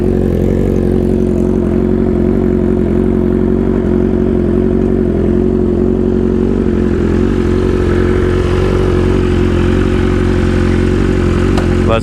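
A 2025 BMW S1000RR superbike engine drones steadily while riding, a loud, continuous low-pitched roar with a constant rhythm and no talking, thick with wind and road rumble.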